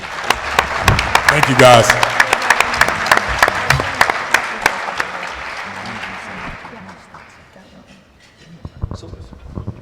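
Audience applause for a panel speaker, sharp claps from a modest crowd that fade out over several seconds, with someone speaking briefly during it.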